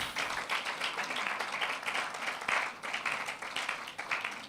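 Applause from a crowd at a STEM festival launch event keeps going, a steady patter of many hands with slight rises and dips, near and fairly loud.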